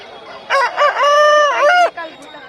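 A rooster crows loudly and close by at a large country-chicken market in Kundarapalli, one long drawn-out cock-a-doodle-doo lasting over a second, with a brief quieter call just after.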